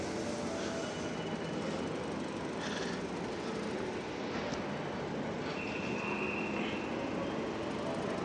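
A busy railway station with many platforms and trains, a steady loud rumble of rail traffic and platform machinery throughout, with a faint squeal near the middle.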